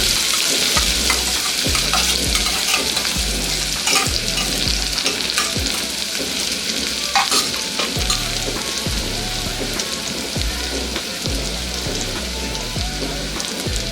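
Sliced green chillies and finely chopped onions fry in hot oil, frying toward golden brown for a horse gram palya, with a steady close sizzle and occasional stirring scrapes throughout.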